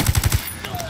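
Rapid burst of about four heavy gunshots in Ghost Recon Wildlands, evenly spaced and loud, followed by fainter rumbling game sounds.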